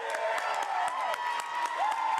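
High school basketball crowd cheering and clapping after a dunk in a Minnesota boys' game, a roaring arena mix of applause and shouts with the announcer's voice carrying over it.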